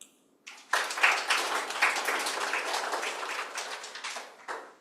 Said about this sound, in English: we give them a round of applause and wish them well